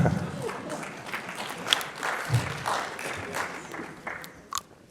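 Audience applause at an alumni lecture: a brief, moderate patter of clapping from the crowd, mixed with a speaker's voice.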